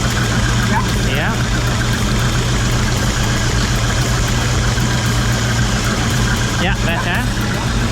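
MerCruiser boat engine running loud and close, a continuous low idle rumble holding steady throughout, while people speak briefly over it.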